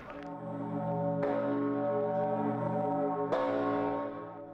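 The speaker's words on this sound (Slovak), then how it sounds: "Concordia. Zvon mira. Zvoni za Južny Tirol a też za Europejadu" Concordia peace bell in South Tyrol tolling for the Europeada event: three deep, sustained strikes about two seconds apart, each with a long humming resonance that overlaps the next, loud and alone.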